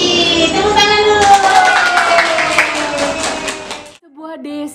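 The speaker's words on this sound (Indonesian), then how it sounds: "Tepuk tangan dulu" Children clapping their hands together in a kindergarten class, a dense run of quick overlapping claps under a high, sustained sung or spoken voice, ending abruptly with brief talk afterward.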